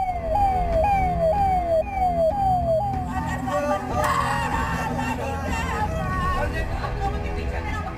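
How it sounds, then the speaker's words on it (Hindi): Ambulance siren on a city street in Uttar Pradesh, wailing in a clear repeating up-down sweep, then fading into a busier mix of traffic noise and crowd murmur. "एक तरफ एम्बुलेंस का सायरन सिरहन पैदा कर रहा था"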